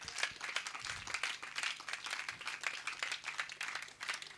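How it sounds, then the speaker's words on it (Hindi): A crowd claps for a gurukul yoga display of chakrasana and dhanurasana poses, producing a dense, continuous stretch of applause from many hands, even and sustained throughout. "एक जोरदार तालियां।"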